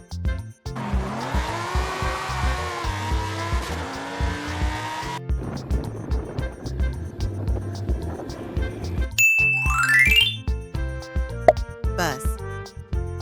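A car sound effect in a kids' vehicle-names lesson, with engine revving and tire squeals building to a skidding rush over bright, bouncy background music.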